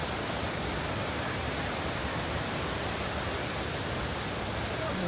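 Athirapilly waterfall throwing up spray, a loud unbroken hiss and rumble of falling water from nearby that stays constant throughout, with no talking.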